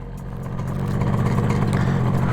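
A 1973 Yamaha RD 250 motorcycle engine revs up steadily and holds at a high, rough drone, close and loud with no talking.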